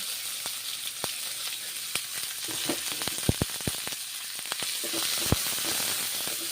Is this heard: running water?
no